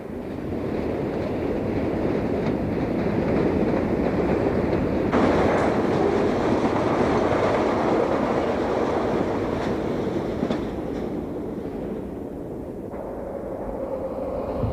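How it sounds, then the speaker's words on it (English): A train rolls through high-speed switches into a rail yard on the Santa Fe Arizona mainline, a steady close rumble of wheels and cars with light clicking, easing slightly toward the end. "The train passes through high-speed switches as it threads its way into the yard"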